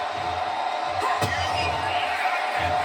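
A wrestling crowd in Houston, Texas cheers and roars at a women's match, a dense, loud wall of audience noise with a sharp slam-like impact partway through.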